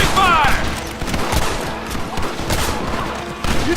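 Rapid gunfire in Red Dead Redemption as a gang shootout with the United States Army unfolds: dense, overlapping volleys of rifle and pistol shots crackle loudly and continuously, with faint shouting voices mixed in.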